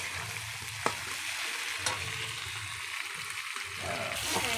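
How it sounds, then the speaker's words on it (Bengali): Pointed gourd (potol) frying in hot oil in a home kitchen: a steady, hissing sizzle throughout, with a couple of sharp utensil taps. "আমরা পটল ভাজা বসিয়ে দিয়েছি।"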